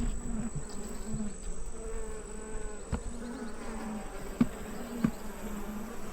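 Bees hum steadily around an open hive box during a frame inspection, a close, continuous buzz with a few faint knocks and taps from the frames.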